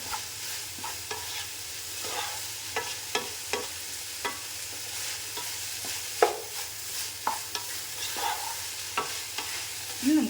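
Chicken fried rice is stirred and tossed in a hot pan, with repeated spatula scrapes and clacks in a steady rhythm over a constant sizzle, close and clear, with no voices.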